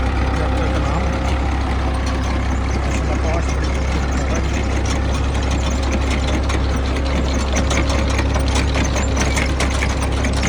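A heavy tractor engine runs steadily with a deep, continuous rumble, close and loud, holding an even idle-like drone throughout.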